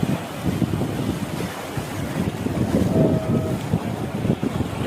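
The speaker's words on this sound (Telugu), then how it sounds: "మరొక సైడు అలలు వస్తున్నాయి." Sea waves breaking on the shore at Dhanushkodi, a rolling wash of surf mixed with gusting wind buffeting the microphone, continuous and fairly close.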